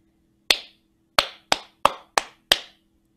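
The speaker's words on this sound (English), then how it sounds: "Okay, now let's clap it together." A rhythm clapped by hand in a quiet room, six sharp close claps with the same pattern: one clap, a pause, then five in quicker succession, each with a brief bright decay.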